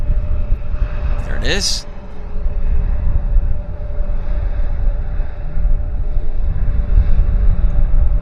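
WestJet airliner jet engines roar at Vancouver airport as a steady, broad rumble that continues throughout. A person speaks briefly near the start, and a bird chirps overhead.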